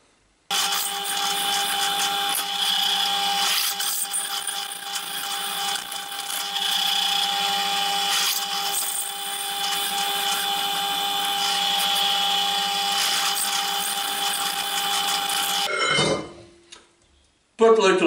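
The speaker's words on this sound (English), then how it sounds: "But luckily, I have my high-precision drill press." High-precision drill press drilling into a ring, a steady high whine with a whirring buzz lasting about fifteen seconds before spinning down and stopping.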